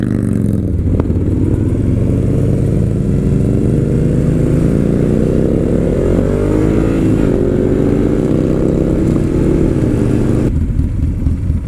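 A Moto Guzzi motorcycle rides along, its engine loud and close for the whole stretch with a steady low rumble and rising and falling revs, and no talk over it.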